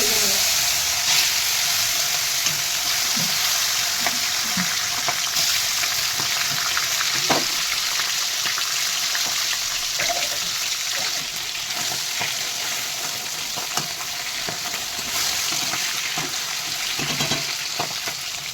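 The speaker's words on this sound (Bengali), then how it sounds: "তেল গরম হয়ে গেছে এক এক করে কাঁটাগুলো দিয়ে" Bhetki fish bones rubbed with salt and turmeric frying in hot oil, a dense, steady crackling sizzle that holds loud and close throughout with small pops scattered over it.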